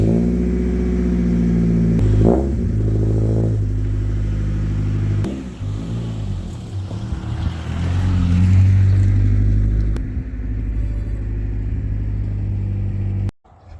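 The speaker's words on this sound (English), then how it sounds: "I'm going to pull the Del Sol out of the garage and give it a good wash" Honda Del Sol engine runs steadily and close by as the car is driven out of a garage, with the rumble rising and easing slightly, then cutting off abruptly near the end.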